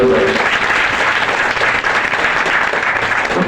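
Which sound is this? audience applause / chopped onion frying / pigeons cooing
audience applause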